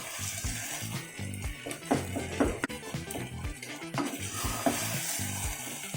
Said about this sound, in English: Make sure that you keep stirring the paste because you don't want it to stick to the bottom of the pan.